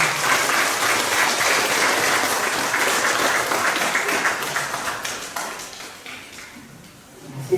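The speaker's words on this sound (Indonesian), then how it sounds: "mari kita berikan tepuk tangan." A school audience claps for the new student admission committee, a loud, sustained round of applause from many hands that gradually thins and tapers toward the end.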